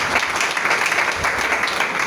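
A church congregation applauds for Jesus, steady dense clapping from many hands filling the room at close range, sustained without a break.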